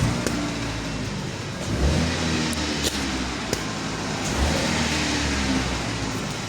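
A Chevrolet Cobalt engine revs in bursts as the gas is pressed, rising and falling twice against a steady running drone, heard close up with some background noise.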